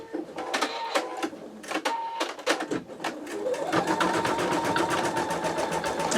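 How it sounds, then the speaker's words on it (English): Embroidery machine with a Sew Tech PA116M magnetic hoop beginning a design, with a few sharp clicks and beeps, then a motor ramping up into steady, rapid needle ticking that continues close and unbroken. "Now what it's going to do is it's going to start stitching out the design itself."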